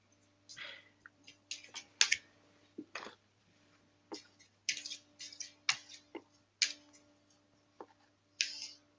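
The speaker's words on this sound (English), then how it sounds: "These are very slidey, these cards. They're quite hard to shuffle." Slippery tarot cards being shuffled at close range, quiet irregular bursts of riffling and flicking card sounds with short pauses between, faint and isolated against a low steady hum.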